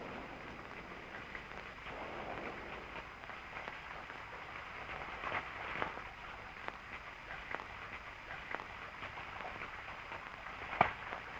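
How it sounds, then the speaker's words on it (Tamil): Steady rain falls outside, a continuous hiss of drops on surfaces with occasional louder patters, heard alone with no voices. "வெளியில ஒரே மழை"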